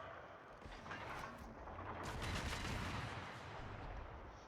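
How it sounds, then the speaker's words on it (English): Warship guns fire in a naval video game, with a burst of distant, muffled gunfire and booming blasts over a continuous rumbling background, fairly faint overall. "I'm going to go ahead and open up with the guns"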